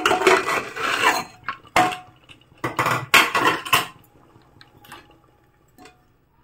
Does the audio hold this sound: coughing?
no